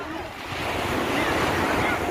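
Surf and wind on Karaikal beach in the evening form a loud, continuous wash of breaking waves, with wind buffeting the microphone throughout.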